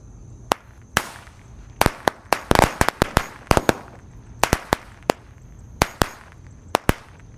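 Corsair firecrackers burst in a rapid, irregular string of sharp bangs, some spaced apart and others clustered tightly together, each loud crack followed by a brief echo outdoors.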